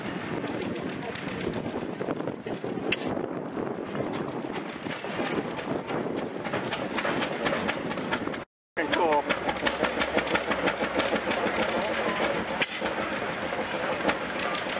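A 1929 Fairbanks Morse engine of 5000 cubic inches runs steadily after being throttled up, a continuous loud rumble with rhythmic beats, broken by a brief gap, while people talk over it.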